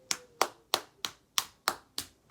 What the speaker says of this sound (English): So I'm just gonna have myself clap.